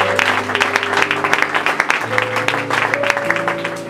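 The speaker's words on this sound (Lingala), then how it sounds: "Acclamez plus fort pour le Seigneur Jésus-Christ" Worshippers in a church clap together in a fast, steady beat, loud and full, with held keyboard notes sounding underneath the whole time.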